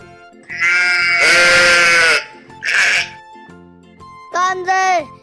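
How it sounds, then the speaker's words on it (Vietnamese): Sheep bleat in several loud, close, wavering calls: a long drawn-out bleat, a short one, then a final pair, over a soft, steady musical backing. "Con cừu."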